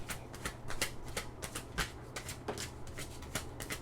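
Tarot cards are shuffled close up, with a steady run of soft papery riffles and flicks over a low background hum.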